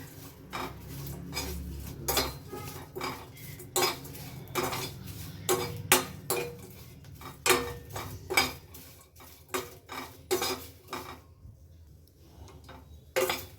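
Garlic roasting in a pan for homemade rasam powder, heard as a rapid series of sharp metallic scrapes and clinks of a spatula against the pan over a low background hum, steady and close, with no talk.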